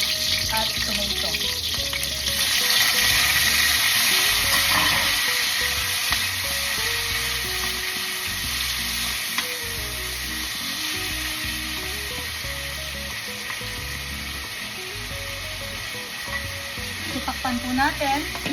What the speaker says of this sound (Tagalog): tapos ihulog na rin po natin yung onions at tomato.